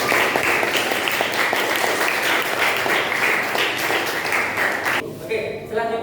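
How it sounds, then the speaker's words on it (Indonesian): A classroom of students claps together for the group, a dense burst of applause that fills the room for about five seconds and then breaks off into scattered rustling and faint noise. "Oke, beri tepuk tangan untuk kita semua."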